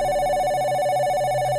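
A telephone rings in the middle of the night with a continuous electronic trilling bell tone that stays loud and steady for the whole short stretch, with no other sounds.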